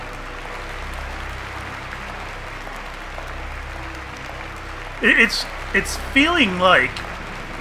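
Steady crowd applause in the Virginia mystery game, a dense continuous patter held at an even level throughout, with someone talking over it in the last few seconds.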